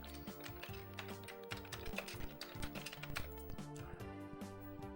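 Fingers tap steadily on a Commodore 64 keyboard, giving quick clicking keystrokes that sit under chiptune game music from Little Computer People.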